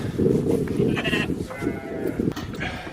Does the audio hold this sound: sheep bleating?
yes